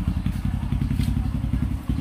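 Yamaha NMax 155 scooter engine idling on its own, a steady low rumbling throb with a rapid even pulse, close and fairly loud, left running before a wash.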